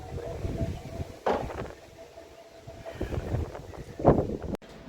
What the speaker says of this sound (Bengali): বেশ ভালো হাওয়া দিচ্ছে